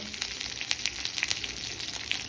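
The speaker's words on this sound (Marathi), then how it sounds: "आपण थोडे ह्यात काजू घालून ते परतवून घेऊया." Cashews sautéing in a pan of oil while preparing a fasting-day bhagar (barnyard millet) dish, giving a soft, steady sizzle with light crackles and stirring sounds, close and fairly quiet, with no talking.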